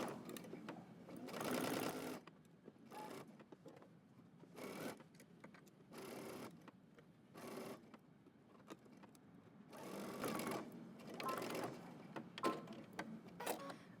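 A sewing machine stitching a sleeve seam at a 5/8-inch allowance runs in repeated bursts of a few seconds each, close and steady, with short quiet pauses between runs and no talk.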